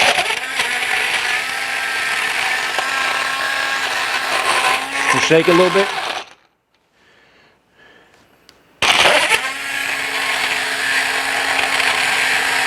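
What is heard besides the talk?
portable USB rechargeable blender crushing ice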